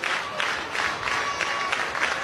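A softball crowd cheers and claps, a steady broad wash of applause and voices heard from a distance, with no clear talk on top.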